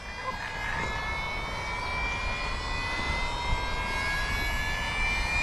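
A Losi Promoto RC motorbike's electric motor spools up with a steady high-pitched whine that sounds like a jet engine. The tone holds fairly loud and continuous throughout, with no speech.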